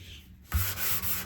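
Sandpaper rubbing over grain filler on the wooden body of a 1969 Martin D-28 acoustic guitar, a close, quiet scratch that starts abruptly after a brief near-silent pause and continues as a steady strokes.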